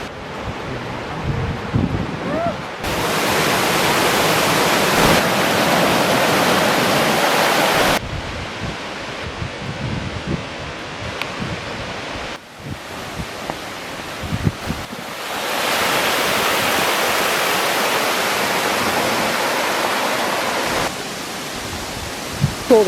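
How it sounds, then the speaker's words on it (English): Steady roaring rush of a waterfall at Plitvice National Park, Croatia, loud and continuous, with wind buffeting the microphone at times. "there's a gorgeous waterfall"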